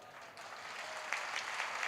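Sparse, thin clapping from a crowd at a natural farming training workshop, steady and fairly quiet, with a few sharper claps near the end.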